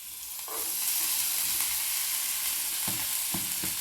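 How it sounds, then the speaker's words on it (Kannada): Boiled hyacinth beans (avarekalu) frying in a pan with turmeric, giving a loud, steady close sizzle broken by a few soft stirring knocks toward the end, with no voices. "ಈಗ ನೋಡಿರಿ, ಚೆನ್ನಾಗಿ ಫ್ರೈ ಆಗತೈತಿ."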